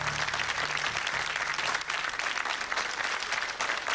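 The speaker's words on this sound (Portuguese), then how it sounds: "Salva de palmas para todos." Studio audience on a quiz show bursts into steady, dense applause that fills the room, continuous and fairly loud throughout with no break.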